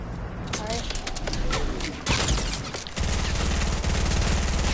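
Video game gunfire pops in a rapid burst with a heavy blast near the middle, loud and close, and voices talk over it.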